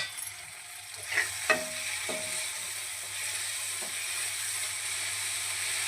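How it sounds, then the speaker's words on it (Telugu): Sesame seeds roasting in a pan are stirred with a spoon, giving a soft continuous dry sizzle with a few scraping strokes against the pan, close and alone. "దీన్ని మధ్యలో మధ్యలో కలుపుకోవాలి. అడుగు పట్టకుండా వేసుకోవాలి."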